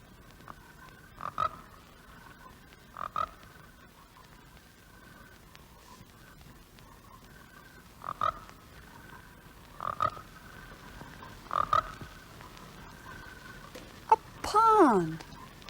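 A frog near a pond gives short, separate croaks at irregular intervals of a couple of seconds, faint over a quiet background, ending with a louder sweeping call.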